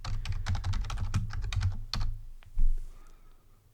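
Typing on a computer keyboard while writing a Python console menu: a quick, uneven run of close, crisp key clicks and taps that bunch into bursts, then slow to a few scattered strokes, with no talking.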